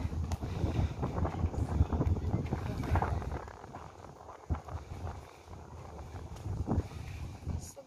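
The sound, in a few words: wind blowing outdoors near Tanjong Rhu, Singapore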